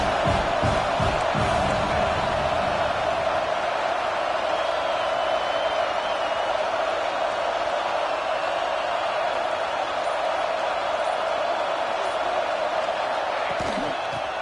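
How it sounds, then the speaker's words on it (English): A dense, steady roar of a large crowd at a college football game between Oklahoma and Tennessee, loud and sustained throughout, with cheering swelling and yelling mixed in. "This crowd even louder now on second down as they try to hold on."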